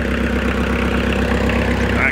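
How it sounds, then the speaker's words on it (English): A Bobcat 753 skid steer engine, previously seized, idles steadily and close by with an even low chug, while a voice talks over it. "I cannot believe an engine that was so seized starts and runs so sweet."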